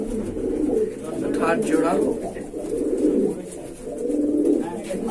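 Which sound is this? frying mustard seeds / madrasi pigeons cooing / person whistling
madrasi pigeons cooing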